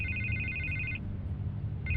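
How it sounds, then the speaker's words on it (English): Phone ringing in the video game Batman: The Telltale Series, a bright electronic trill that sounds for about a second, pauses, then starts again over a low room hum. "I can't get the phone to stop ringing"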